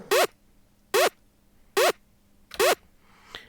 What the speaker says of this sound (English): The effect is like a squelchy stab